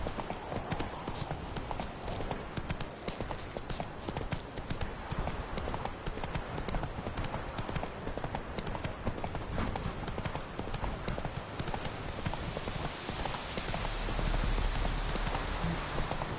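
Horse named Roach galloping: a steady, fast clip-clop of hooves that keeps up throughout, close and loud, with a faint voice urging it on now and then.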